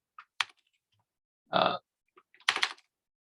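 A few short bursts of keyboard typing with pauses between them, fairly quiet and close, in an otherwise silent room.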